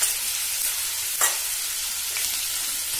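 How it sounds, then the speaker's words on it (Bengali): Ginger and garlic paste stirred into a paneer mixture frying in a pan, a dense continuous sizzle with a couple of scraping spatula strokes, close and steady, no voices. "এটাও ভালো করে মিশিয়ে নিচ্ছি"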